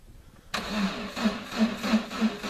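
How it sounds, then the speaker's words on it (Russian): A UAZ engine in minus 23 degree frost cranks and fires abruptly, then runs with a pulsing, uneven idle, close and fairly loud. "Вот так завелся УАЗ."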